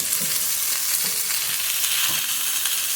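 Food frying in a pan without added water, close up: a dense, steady sizzle and crackle throughout, with faint stirring knocks and no talking.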